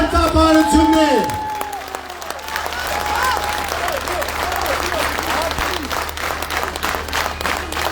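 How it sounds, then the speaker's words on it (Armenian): Loud, sustained applause and crowd noise fill a political rally in Gyumri, Armenia, with a voice calling out over the start before the clapping carries on steadily throughout. "բարձր ծափահարություններ"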